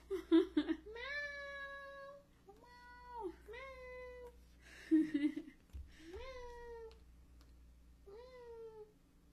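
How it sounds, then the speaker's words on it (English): A pet cat meows repeatedly in long, drawn-out, mournful cries while being given a shower, with short gaps between calls and some splashing or rustling around them. "My sister is giving my dad's cat a shower, and the cat sounds so sad."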